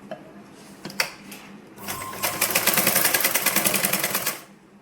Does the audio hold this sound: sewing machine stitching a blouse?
yes